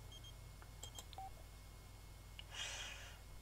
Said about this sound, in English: Oh, Jefferson's calling.